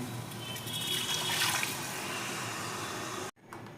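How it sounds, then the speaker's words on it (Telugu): Water pours steadily and close by from a glass into a pressure cooker for about three seconds, then cuts off abruptly, with a brief trickle after. "అదే గ్లాస్తో ఒక్క గ్లాస్ వాటర్"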